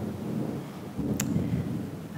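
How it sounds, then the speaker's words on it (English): Thunder during a storm, a low rumbling roll that swells midway with a brief sharp crack, moderately loud over steady background noise. "Thunder and lightning."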